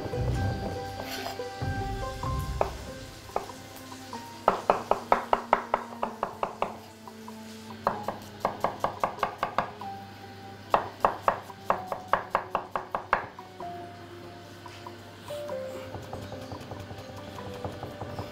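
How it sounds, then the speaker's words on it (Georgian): Knife chopping shiitake and other mushrooms, onion, garlic and fresh herbs on a cutting board in a home kitchen, with bursts of quick, rhythmic taps in several runs and pauses between them over a low background hum. "სოკო გავაკეთოთ, ანუ დავჭრათ ყველაფერი, შიტაკიც, გამოსოკოც, ხახვი, ნიორი, მწვანილები, რა თქმა უნდა."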